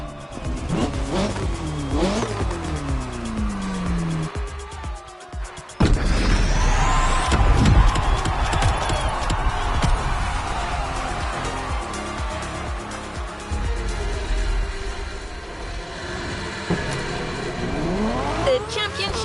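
A McLaren race car in the racing game The Crew Motorfest, with a loud engine revving up and down through gear changes, tire noise and a sudden surge, played back under a game soundtrack.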